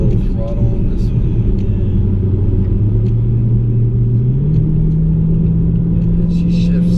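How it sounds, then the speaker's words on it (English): A Dodge Hellcat engine under throttle gives a loud, steady low rumble whose pitch climbs gradually as the car accelerates, heard from inside the cabin. "We'll give her a little throttle on this one."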